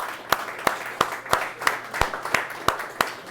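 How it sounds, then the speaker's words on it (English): At a success-themed keynote talk, the audience claps for itself: a brisk, very regular run of sharp, close handclaps, about three per second, with no voices over it. "I'd like all of you to give yourself a round of applause real quick"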